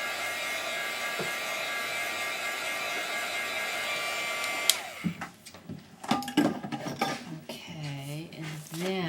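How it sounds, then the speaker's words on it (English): A heat gun blows steadily over freshly inked cardstock, a loud even whir that cuts off midway, followed by close handling clatter and a person talking. "So I'm just going to run my heat gun over it really quick to make sure it's good and dry."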